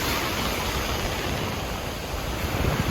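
Continuous broadband roar of Baltic Sea waves washing onto the beach at Władysławowo, Poland, steady and fairly loud, with no voices.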